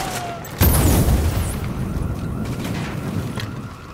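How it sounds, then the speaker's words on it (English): A grenade in the video game The Division goes off with a sudden heavy boom, and a long rumbling roar follows as it decays. "It's grenade time."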